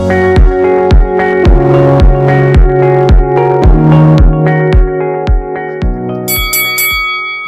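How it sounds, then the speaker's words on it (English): Boxing ring bell clanging in a steady rapid series of about a dozen sharp, ringing strikes, loud and close, followed by a brighter higher ring at the end, with no talk. "You just heard the bell. That means that we are in the ring."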